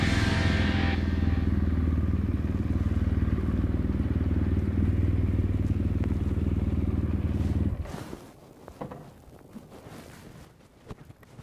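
A BMW motorcycle's engine rumbles loud and steady for about eight seconds, then cuts off abruptly, leaving quiet outdoor clatter and wind noise; no clear talking.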